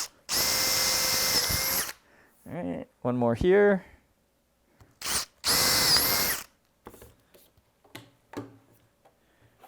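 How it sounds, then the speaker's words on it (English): Power drill boring holes in polycarbonate parts at a workbench, two long loud whining bursts separated by short gaps, with a person speaking briefly between them and light handling clatter afterward. "Now that we only have a few holes left to drill."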